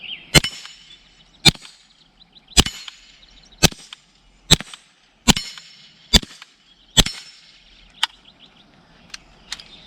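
A steady series of sharp shots muffled by a Yankee Hill Machine Phantom 22 suppressor, each followed by a bright metallic ping from a steel popper target, about one per second, then a few fainter pops at the end.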